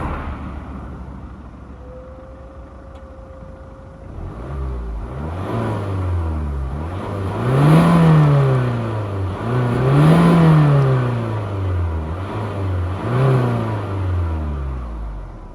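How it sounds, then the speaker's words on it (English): A 2013 Peugeot 508 Touring wagon's diesel engine cranks and settles into idle, then is revved three times in rising and falling swells before dropping back to a steady idle. "I think we should start it up and give it a quick little rev."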